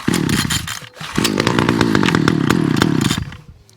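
A Titan lawn mower engine fires on cold start with the choke up, catches with a brief stumble, then runs steadily with a loud, buzzing two-stroke-like drone before tapering off.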